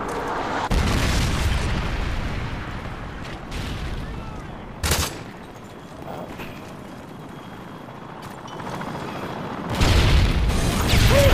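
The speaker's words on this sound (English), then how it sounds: "Friendly Predator missile inbound." A Predator missile strike in a first-person shooter game, with rumbling blasts and a sharp booming burst near the middle, then another heavy explosion at the end over continuous low rumble; loud and close, with no speech.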